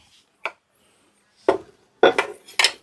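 A pestle pounds Isan-style curry paste in a mortar, making five sharp, woody knocks. They start sparse and come closer together toward the end, each loud and close with quiet gaps between.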